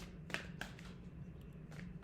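Tarot cards being shuffled by hand give a few soft, quick riffling bursts, close and quiet, with a faint low hum underneath.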